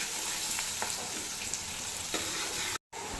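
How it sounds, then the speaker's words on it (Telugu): Onions for Hyderabadi chicken dum biryani frying in a pan until golden brown, giving a dense, continuous close-up sizzle with faint stirring ticks and a momentary dropout near the end. "బాగా బ్రౌన్ కలర్లో వచ్చేంత వరకు, గోల్డెన్ కలర్లో వచ్చేంత వరకు బాగా ఫ్రై చేయాలండి."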